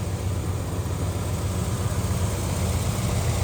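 A 1974 Ford Gran Torino's 351 V8 engine idles steadily nearby, a low even rumble with no other sounds over it.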